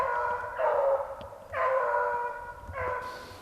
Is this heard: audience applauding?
no